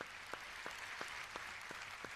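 Audience applause for a singer on a TV show, a faint even ripple of clapping with a few sharper claps standing out at a regular pace.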